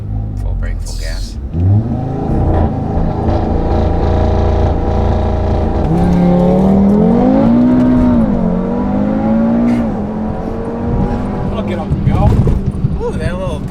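A built-motor Audi RS3 revs hard on a brake-held full-throttle launch, the engine note climbing and wavering loudly up close before dropping back, with voices speaking over it.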